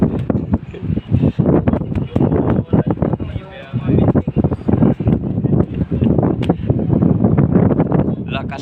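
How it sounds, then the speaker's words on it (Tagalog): Strong wind gusts blowing outdoors before approaching rain, a continuous loud rushing roar with buffeting on the microphone, under excited talk throughout. "Lakas ng hangin."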